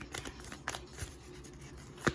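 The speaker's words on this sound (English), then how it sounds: "I'm going to shuffle them." A deck of cards is shuffled during a card reading, giving a few scattered, crisp riffling bursts with a sharper snap near the end, close and fairly quiet.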